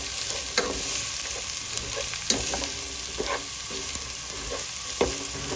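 Tuna fish pickle base fries in a pan while a spoon stirs it, bringing a steady sizzle with intermittent scraping knocks against the vessel, close and moderately loud, without speech.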